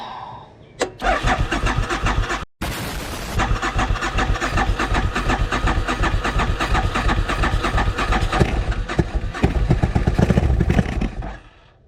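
Old motorcycle with no gas, running only on carb cleaner sprayed into the cylinder, cranking with a brief cough, then catching and sputtering into a loud, ragged, uneven idle close by that revs up before dying away.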